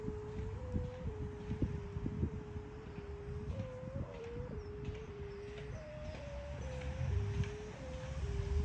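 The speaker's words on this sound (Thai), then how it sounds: "ลมกระโชกแรงมากครับ" Strong gusty wind buffets the microphone while flying a Thai Isan-style kite (wao), with a steady low rumble and a sustained tonal hum from the kite's bowed sounder rising and falling in pitch with the gusts; no talk.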